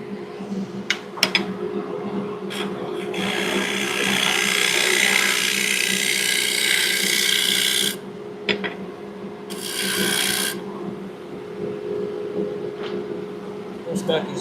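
A 3/4 scraper rasps across a surface in long, close strokes with short pauses between passes, over a low steady background hum.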